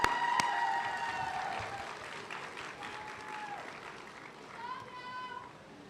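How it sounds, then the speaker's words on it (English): A crowd at a graduation ceremony applauds steadily, the clapping strongest at first and gradually thinning out, with some voices mixed in. "Give them a round of applause."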